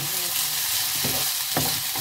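Korean-style stir-fried potatoes with sesame oil and sesame seeds tossed in a pan, a constant close sizzle broken by a few quick scraping stirs, with no talking.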